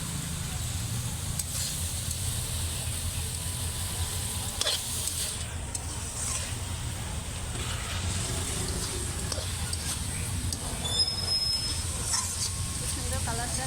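Chicken chow mein noodles sizzle steadily in a hot pan, a continuous close frying hiss that holds at an even level throughout.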